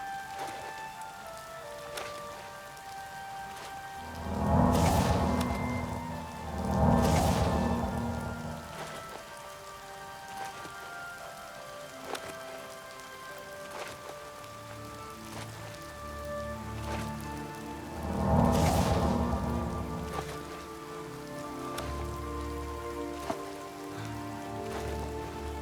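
Rain pours steadily in Oblivion Remastered, a dense patter on surfaces that surges three times into heavier bursts, with faint musical tones underneath.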